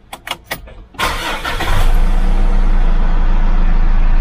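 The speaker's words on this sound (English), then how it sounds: "Kusan natin yung makina." A car engine cranking with a few quick starter whirs, then catching and settling into a loud, steady idle close by.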